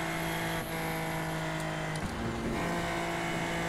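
A Super Formula Lights race car in iRacing at Road Atlanta drones at steady pitch, then drops in pitch mid-clip as it downshifts, and the engine tone holds loud and continuous throughout.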